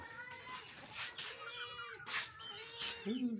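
A cat meows repeatedly up close, several drawn-out plaintive cries in a row with brief pauses between them, while chasing a chicken.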